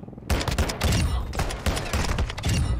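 Loud, rapid gunfire fired through a wall in Call of Duty: Modern Warfare, sustained bursts with heavy thumping impacts close by and no pauses.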